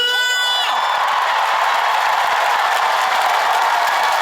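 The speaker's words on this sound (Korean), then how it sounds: "함성과 박수!" A concert audience at a singer's stage show roars in a dense, sustained wall of cheering and whooping, loud and continuous throughout, with clapping blended into the crowd noise.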